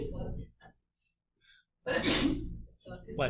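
A single loud, sharp sneeze bursts out between stretches of nearby talking.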